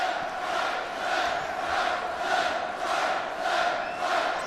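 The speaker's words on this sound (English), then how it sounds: "here's the chants from the crowd" Chanting rises and falls in a steady rhythmic swell from a packed crowd at a Kansas versus Kansas State college basketball game, loud and continuous, filling the arena without a break.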